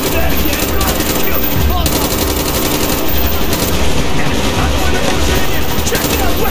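Dense, continuous gunfire from the video game Call of Duty Black Ops, with loud, rapid machine-gun bursts and shots filling every moment under a busy battle din.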